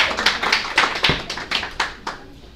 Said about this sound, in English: everybody do a round of applause for Terry Lavely.